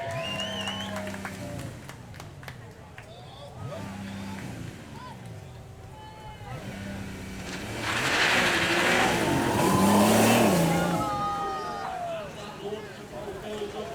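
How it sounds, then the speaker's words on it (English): A Porsche engine revs and builds under launch control at a supercar show, droning and rising in pitch as boost builds, with a voice talking over it and crowd noise in the background. "Just listen to the launch control on this."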